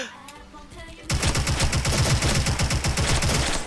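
Rapid automatic fire from M4 rifles in the online shooter Special Force, a dense, loud burst of evenly spaced shots that starts abruptly after a quieter moment and continues steadily.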